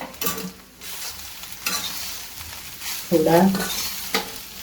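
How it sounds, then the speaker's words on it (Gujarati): Soya chunks frying in hot oil in a pan while being stirred, a steady close sizzle broken by scraping stirs, with a few words spoken. "શેકી તેલમાં અને પછી એને અલગ કાઢી દઈશું."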